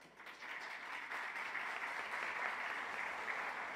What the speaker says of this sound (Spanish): Recibamos con un aplauso a Claudia Werneck